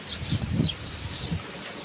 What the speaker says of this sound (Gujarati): જો કેવું પવન છે કાલે એવો જ પવન હતો